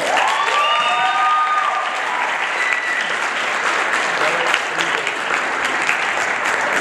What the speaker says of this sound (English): A big round of applause for Adam Henkel.